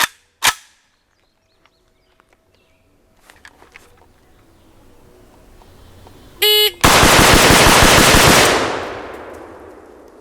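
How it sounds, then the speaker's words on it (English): An AK rifle fitted with an ALG AKT trigger fires ten rapid semi-automatic shots. A shot timer beeps after two earlier sharp reports, then a loud, fast, tightly spaced string of gunshots rings out over about two seconds. "how fast it takes me to fire 10 rounds with the G2"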